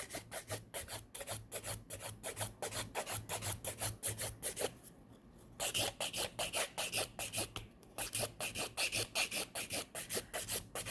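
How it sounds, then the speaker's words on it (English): A nail file rasps across a fingernail in round, repeated strokes, a steady close scratching rhythm of quick rubs with two brief pauses and no talk. "go in with our round filing movements"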